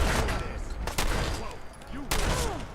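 Gunfire in the video game Fallout 4 comes as rapid bursts of loud game shots with short echoing tails, mixed with other in-game effects and a voice in the background.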